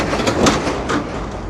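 Shaky truck rattling past on a New York City street in Queens, a loud close clatter and rumble with sharp metallic knocks that swell and fade over a second and a half.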